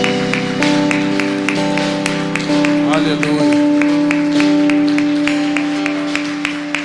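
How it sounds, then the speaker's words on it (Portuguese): A church congregation claps along to the Lord during a worship service, steady applause blending with sustained keyboard chords while a preacher speaks over it. "Você pode aplaudir ao Senhor?"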